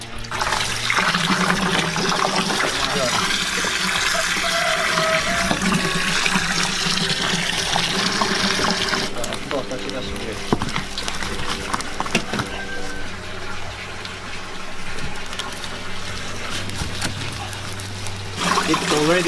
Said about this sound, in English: So next step is we fill this with cold water.